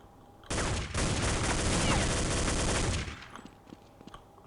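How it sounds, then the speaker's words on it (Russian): A grenade blast and a burst of gunfire erupt in the Counter-Strike 1.6 video game, a loud dense roar of rapid shots lasting about two and a half seconds before it drops back to quieter game ambience. "Бойся, кидаю гранату."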